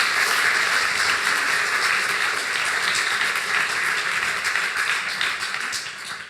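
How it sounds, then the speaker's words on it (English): An audience applauds the bride and groom with steady, full clapping from many people that holds evenly before tapering off at the close. "Can we have a little bit some applause for the beautiful bride and groom here?"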